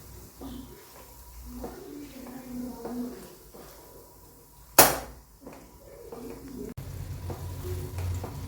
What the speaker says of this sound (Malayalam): എണ്ണയിൽ കിടന്നിട്ട് ഈ മുളക് നല്ല മൂത്ത് വരട്ടെ